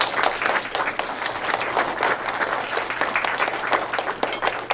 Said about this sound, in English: How about a nice round of applause for our senior class officers?